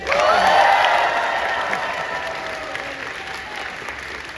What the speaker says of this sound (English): One last cheer for Jet.